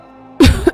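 A woman coughs hard after stepping out of a smoke-filled house where wood smoke from cooking drifts around, a burst of harsh, close coughs and throat clearing following a quiet lead-in.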